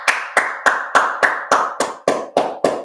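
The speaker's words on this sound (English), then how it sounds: "So let's give her a round of applause." A round of applause for a young girl who picked a topic herself, nine or ten sharp hand claps at a steady, slightly slow pace, close and clear with no talk over them.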